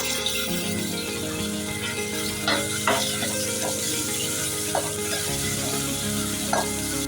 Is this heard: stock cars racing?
no